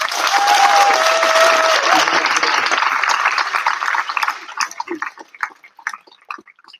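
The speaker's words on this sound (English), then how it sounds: "So give them a round of applause too" A commencement crowd bursts into loud, dense applause with scattered cheers, holding steady for about four seconds before thinning into a few last isolated claps that fade out.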